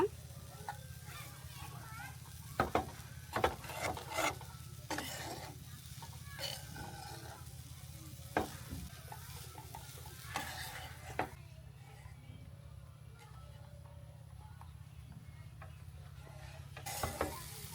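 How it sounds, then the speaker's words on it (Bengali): Vermicelli and cheese frying in a pan while being stirred, a soft continuous sizzle broken by scraping and clattering stirring strokes, fairly quiet and close. "চিজ দিয়েছি, এখন আর একটু নেড়েচেড়ে ভেজে নিব"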